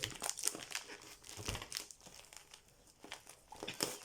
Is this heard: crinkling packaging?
yes